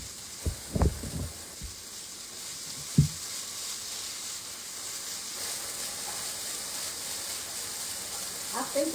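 Sheet pan quesadillas cooking in an oven, a faint steady sizzle and hiss running throughout, with a few brief clatters near the start and a light knock at the end.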